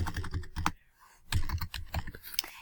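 Quick bursts of typing on a computer keyboard, crisp close key clicks in two clusters separated by a short pause.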